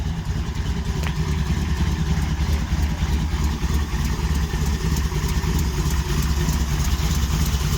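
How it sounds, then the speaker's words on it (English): A 1970s Plymouth Satellite's engine idles steadily close by with a rough, ticking, puffing exhaust note from a header leak and noisy valve train, loud and continuous without talk. "Header leak and noisy valve train as always."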